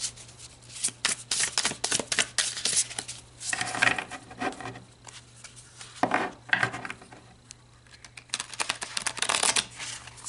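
Tarot cards are shuffled by hand in repeated quick riffling bursts, close and crisp, with short pauses between rounds.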